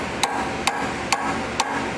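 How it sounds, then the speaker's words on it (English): A hammer tapping a punch to drive a roll pin into a small shaft on a socket chuck, four sharp metallic strikes in an even rhythm, close and distinct over a low background hum. "tap that roll pin into the small shaft at the end of the socket chuck"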